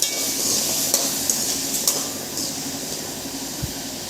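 Small onions sizzle steadily in a pan, a continuous close hiss with a few light clinks of stirring over the top, no voices.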